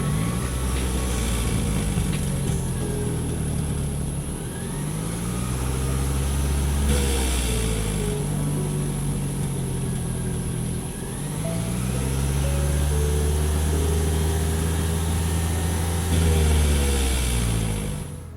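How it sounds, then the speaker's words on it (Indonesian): A Toyota Alphard Hybrid Executive Lounge's petrol engine kicks in once the battery runs low, humming and rising through several revving swells, steady and close with no talk. "kalau dia kehabisan daya, baru deh mesinnya nyala seperti ini gitu"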